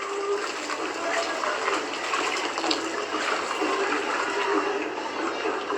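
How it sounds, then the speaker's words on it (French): Water pours steadily over cooked malt in a lifted sieve while a beer is brewed at home, a continuous close splashing gush, moderately loud and unbroken throughout. "on lève le tamis pour faire égoutter notre malt qui a cuit. Et après, on le rince."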